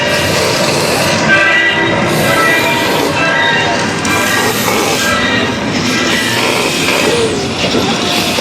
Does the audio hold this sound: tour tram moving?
yes